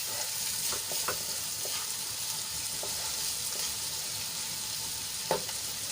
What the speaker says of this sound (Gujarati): તો ડુંગળીને આપણે ગુલાબી રંગની થાય ત્યાં સુધી સાંતળી લેવાની છે।